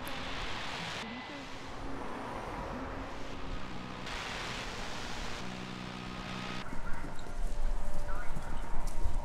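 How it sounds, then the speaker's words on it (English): Galloping horses heard over a radio station in the game Kentucky Route Zero, a continuous drumming of hooves like a race, steady then growing louder toward the end, with talk running over it. "It sounds like horses running."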